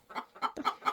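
Hens clucking close by in a backyard coop, four short bursts of throaty clucks in quick succession with no talk.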